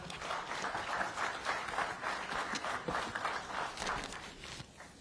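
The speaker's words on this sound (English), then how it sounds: "Another round of applause to Farah." Conference audience applause at a safety and health at work event, a steady dense clapping from a crowd that sustains for about five seconds and fades slightly at the end.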